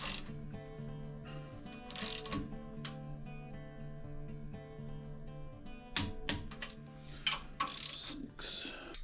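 A torque wrench ratchets as cylinder head bolts are tightened on an Okrasa 36 hp engine, giving faint, quiet clicking bursts over a steady background hum.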